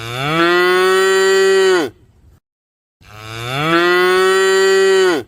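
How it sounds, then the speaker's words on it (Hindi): Water buffaloes moo while eating fodder, two long, loud, deep harmonic calls close by, separated by a short silent pause. "चारा खाते हुए अचानक भैंसों ने आवाज निकाली।"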